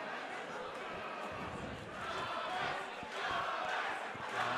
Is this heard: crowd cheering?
yes